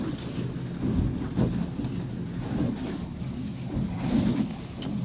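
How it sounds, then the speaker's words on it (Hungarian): Wind blows head-on across Lake Balaton and stirs small waves, giving a steady low rumbling wash with gusty buffeting against the microphone, fairly loud and continuous, with no voices. "Szemből fúj a szél."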